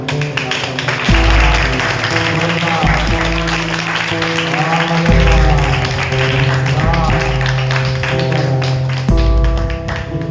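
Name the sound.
audience clapping during a church sermon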